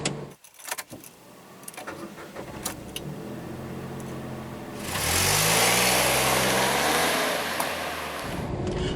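A Nissan March 1.0 S engine runs while driving, low steady drone with harmonic bands rising and falling as it accelerates, growing louder and rougher about halfway through, with a faint jingle of keys near the start.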